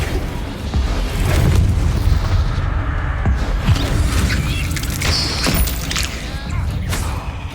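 Bombarda blasting spell in Hogwarts Legacy, deep booming explosions with shattering debris and crackling bursts in quick succession, loud and close, amid game effects and faint voices.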